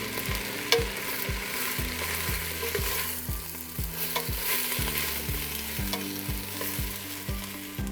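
Lentils and white vinegar tossed in a pot over heat give a steady frying sizzle, with repeated rhythmic stirring and scraping strokes close up throughout, and no voices.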